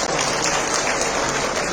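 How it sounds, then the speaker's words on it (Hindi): An audience at a political rally for a JDU leader claps steadily, a dense, loud, unbroken burst of applause with no voices over it. "आप सब लोग जो ताली बजा रहे हैं"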